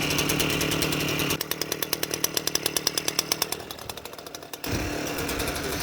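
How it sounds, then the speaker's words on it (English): A two-stroke scooter engine on a smoky cold start rattles and buzzes close by, its idle breaking into a rapid string of sharp pops and stutters before revving back to a steady drone. "obviously your 2-strokes make those little popping sounds. Very distinct with these motors"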